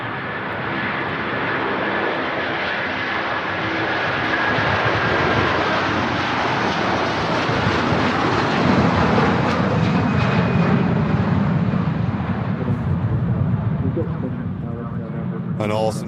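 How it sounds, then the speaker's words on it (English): A Virgin Atlantic A330 departs Manchester Airport for Orlando, its jet engines producing a loud, sustained roar that builds toward the middle and holds, with someone talking over it. "departure there from the Virgin Atlantic on its way to Orlando"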